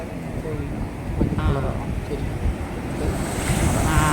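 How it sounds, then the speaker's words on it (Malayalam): Rough sea surf at a beach, with a steady broad roar of breaking waves and wind buffeting the microphone throughout, and faint voices in the background. "കടൽ നല്ല രൗദ്രമായിട്ട് കിടക്കുകയാണ്"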